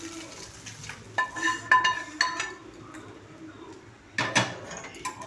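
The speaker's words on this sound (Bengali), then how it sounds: "এবার এই ডিমটা আমি ওই চাউমিনটার মধ্যে দিয়ে দেবো।" Clinks and stirring of utensils in a pan as a fried egg is added to chow mein, with a few sharp metallic knocks over a low background.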